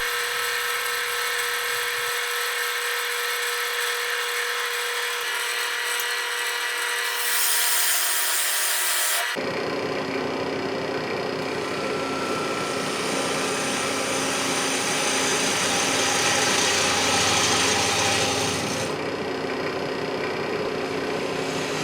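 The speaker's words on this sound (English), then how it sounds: "I use the tailstock at first to support the bowl while I hog out most of the bulk of the inside of the bowl" A resin bowl turns on a wood lathe, supported by the tailstock, as the inside is hollowed out; a steady, loud scraping hiss of the cutting tool runs throughout, with the tone shifting partway, and no one speaks.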